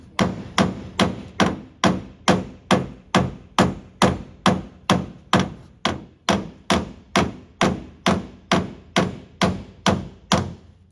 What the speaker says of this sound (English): And this is hammer off dolly, because the dolly is below the crease.